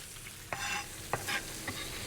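Chopped garlic hits melted unsalted butter in a pan, giving a soft bubbling sizzle broken by a few brief clinks and scrapes, quiet and close.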